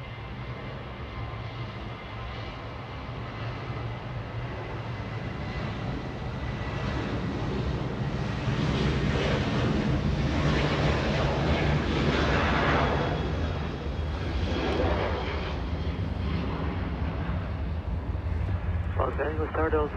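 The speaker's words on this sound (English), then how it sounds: "Southwest Airlines already getting a move on this one, once again flying to Midway in Chicago, a 737." A 25-year-old Southwest Airlines Boeing 737, delivered in 1997, taxiing or taking off at LAX, giving a steady broadband jet roar that swells through the middle and holds. A voice talks over it throughout.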